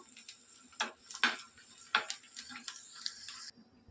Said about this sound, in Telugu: కొన్ని వెల్లుల్లి రెబ్బలు మరియు ఎండుమిర్చి వేసి బాగా ఫ్రై చేసుకుందాము